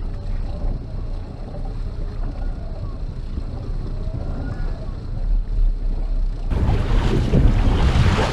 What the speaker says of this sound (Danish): Vinden har taget lidt til.